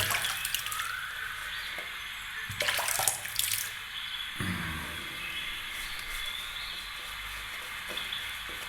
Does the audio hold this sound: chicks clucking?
no